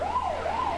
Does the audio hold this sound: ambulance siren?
yes